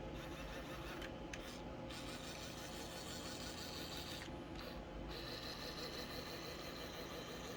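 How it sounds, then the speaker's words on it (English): Faint, steady mechanical whir of a small USB missile launcher motor running continuously, with two brief dips in the hiss around its middle, quiet and close with no voices. "there's a little motor sound"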